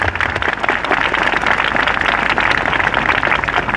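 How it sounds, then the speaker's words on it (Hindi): A church festival audience in Jagdalpur claps loudly and steadily for Jesus, a dense, continuous wash of applause filling the hall with no voices on top. "आइए हम यीशु के लिए जोरदार ताली बजाएंगे।"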